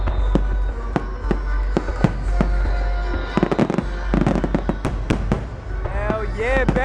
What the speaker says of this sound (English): Woo! Fireworks, baby.